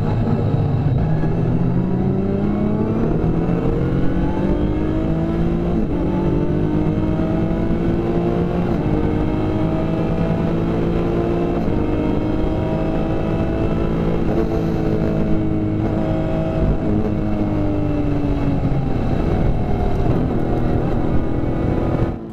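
Onboard a BMW race car lapping at Spa, the engine drones loud and continuously through gear changes, its pitch climbing and falling as it accelerates and lifts, with no speech.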